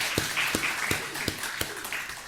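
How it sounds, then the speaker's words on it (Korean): A church congregation claps together in praise, sharp unison claps landing at a regular beat over a softer bed of scattered clapping, moderately loud and close. "감사로 힘있게 박수로 영광 드리도록 하겠습니다"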